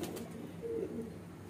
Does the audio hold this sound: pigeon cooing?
yes